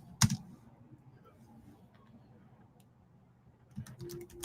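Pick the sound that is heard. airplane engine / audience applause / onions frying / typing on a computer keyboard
typing on a computer keyboard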